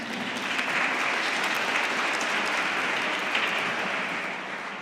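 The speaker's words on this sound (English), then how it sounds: "you can clap your hands if you want" Sustained audience applause at a university conference, a dense, even roar of many hands clapping, fairly loud, that eases slightly toward the end.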